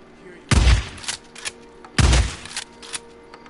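Two heavy shotgun blasts in the video game Days Gone, about a second and a half apart, each a loud close boom followed by a short rattling tail and smaller clanks in between.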